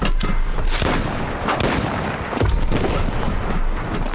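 A video-game explosion in No More Room in Hell 2: loud, booming blasts with sharp cracks, several bursts in quick succession and a dense rumbling tail, with no talking.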